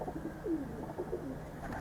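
A domestic pigeon cooing softly and close by, with a few low throaty coos over faint background noise and no talk.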